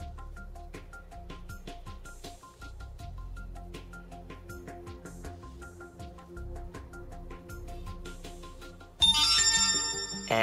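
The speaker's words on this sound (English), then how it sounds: "the actual ringer will be activated, and I'll be able to find my phone" An Android phone ringer, triggered remotely by a phone-finding app, plays a repeating melodic ringtone of bright chiming notes, close and steady, then jumps louder near the end.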